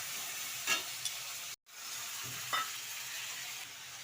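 Water poured into a pan of sizzling ginger, turmeric and chilli powder, a soft steady frying hiss with a few brief stirring scrapes, faint and close.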